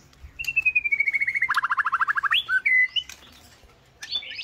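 A freshly bathed white-rumped shama with a yellow gape and long tail sings close by, a rapid run of bright repeated chirps giving way to higher whistled phrases, with no one talking.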